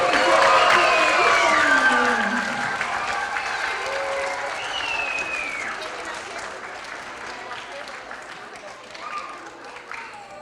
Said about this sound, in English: Let's give our third graders one more round of applause.